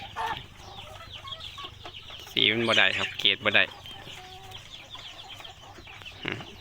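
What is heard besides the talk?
rooster clucking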